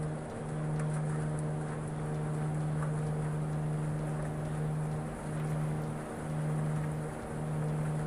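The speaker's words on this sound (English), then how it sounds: "Going back into the rain" Rain in Microsoft Flight Simulator, flying over Atlantic Canada: a steady wash of rainfall over a constant low engine drone with a sustained tonal hum, continuous and unbroken throughout.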